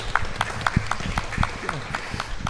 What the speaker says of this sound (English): Can we have a round of applause for our guest, please?